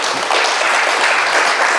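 Storytelling festival audience in Cedar Rapids applauding together, a steady dense wash of clapping and snapping that stays loud and even for the whole stretch, with no voices over it.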